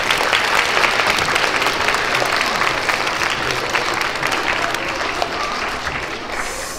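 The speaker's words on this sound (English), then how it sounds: "Let's give them a round of applause." Steady applause from a children's Pre-K to third grade character education assembly, a dense crowd of small hands clapping loudly and continuously throughout, easing slightly toward the end.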